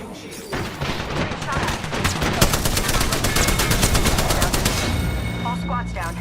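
Rapid automatic gunfire in a video game shooter rattles in a dense burst of closely spaced shots, loud and continuous for several seconds before trailing off, with a player talking over it.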